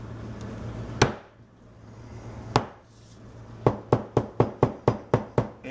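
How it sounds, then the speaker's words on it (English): A hammer smashes garlic cloves for a garlic onion burger: two separate sharp whacks, then a quick, steady run of about eight loud, close thuds. "I like just whooping on it with a goddamn hammer."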